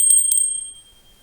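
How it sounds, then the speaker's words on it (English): A small silver altar bell bearing a pentacle rings with two quick, bright strikes close by, its clear metallic tone sustaining briefly before fading into quiet. "A little altar bell in silver with a little pentacle on it."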